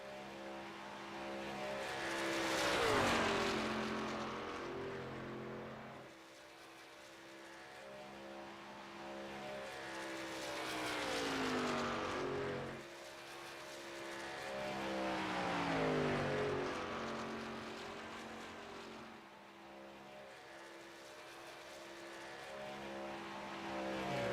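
Racing truck engines roar in an iRacing truck series race, rising and falling in long revving sweeps as trucks pass and shift, loud and continuous with no talk.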